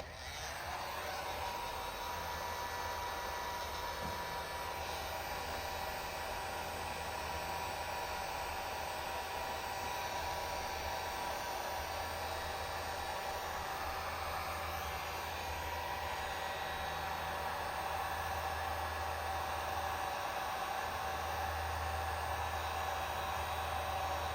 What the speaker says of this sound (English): we're going to heat this film, press all this down